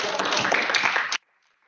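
Audience applause at a school board meeting, a dense burst of clapping with some voices mixed in, cutting off abruptly into near silence.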